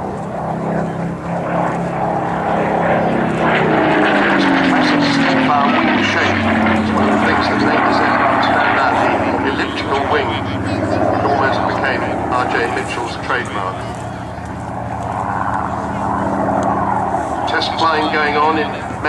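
A propeller aeroplane on an airshow flight at Abingdon Airshow rumbles overhead, its engine drone rising and shifting in pitch as it passes, loud and continuous while an announcer talks over it.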